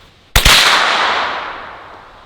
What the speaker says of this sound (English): The bottom barrel fires first, so we're gonna have 9mm, then 38 special.